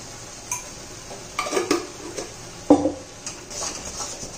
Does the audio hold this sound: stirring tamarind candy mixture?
yes